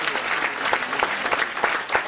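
A church congregation bursts into dense, lively applause, a full wash of many hands clapping with rhythmic peaks, loud and sustained through the moment.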